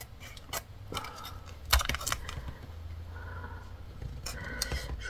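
Paper being cut with small scissors for a scrapbooking bookmark: a string of sharp, close snips and clicks at an irregular pace, with no talking.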